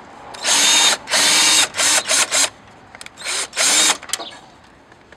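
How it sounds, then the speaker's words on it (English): Ratchet loosening engine mount bolts on a 2004–2013 Mazda 3, heard as a series of loud, close bursts of rapid clicking, some long and some short, with brief pauses between strokes. "I'm just using the ratchet to loosen"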